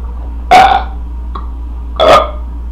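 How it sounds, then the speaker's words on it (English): Two loud belches after drinking cider, a short burst followed by a pause and then a second one of similar force, each standing alone with no talk over them. "I barely had anything to belch off of."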